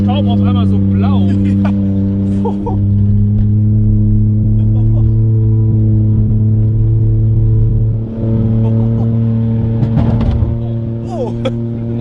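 A small three-cylinder car engine revs hard at full throttle with washer fluid in its intake, a loud sustained drone with harmonic tones holding steady for the whole stretch while voices chatter over it.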